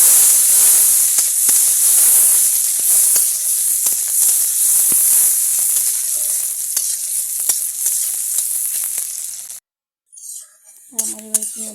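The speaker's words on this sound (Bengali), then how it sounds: "পেঁয়াজটাকে আমি ভালো করে ভেজে নিচ্ছি।" Chopped onions fry in hot oil with cumin in a pan while a home-style fish curry is being cooked, giving a loud, steady sizzle and hiss with occasional stirring clicks. The sizzle cuts off near the end, followed by a brief faint tone.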